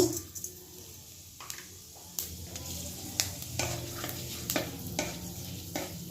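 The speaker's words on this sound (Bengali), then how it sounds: "এবার কড়াইতে তেল দিয়ে দিয়েছি, গরম হয়ে গেছে। এবার একটু ফোড়ন দিয়ে দেব।" Spices temper in hot oil in a wok (kadai), crackling and sizzling close by with intermittent sharp spits and pops as they are stirred, continuing steadily for several seconds without talk.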